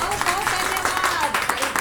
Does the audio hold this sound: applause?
yes